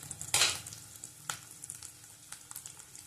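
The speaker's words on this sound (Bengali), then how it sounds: "রসুন বাটা দিলাম।" Garlic paste hitting hot oil with fried onions for a katla fish curry, a loud burst of sizzling that settles into a quieter, crackling fry with a few sharp spatula clinks.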